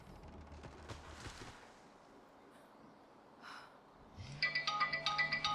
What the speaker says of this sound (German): da wollte ich das Telefon abnehmen